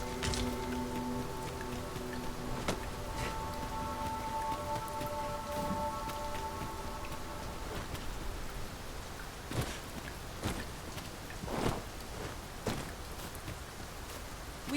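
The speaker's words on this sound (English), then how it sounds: "We must be really down on our luck to get caught out in such a downpour." Heavy rain pouring down in the fantasy game Dragon's Dogma 2, a dense continuous hiss of drops with occasional sharper splashes and crackles, steady and close throughout.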